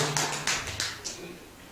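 A small gathering at a Korean Buddhist dharma talk gives brief, scattered clapping, a handful of quick irregular claps over a faint room background.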